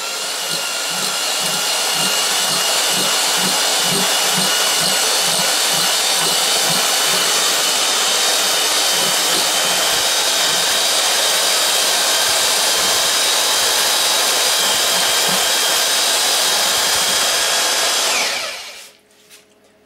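A construction rotary hammer drill churns yellow and firm plums into puree, a loud continuous whirring roar with a faint pulsing beat early on, cutting off sharply near the end.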